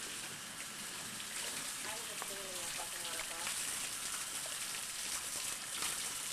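Rain pours steadily outside a cave at a state park, a soft, even hiss of falling water with splashes, faint and continuous while people talk nearby.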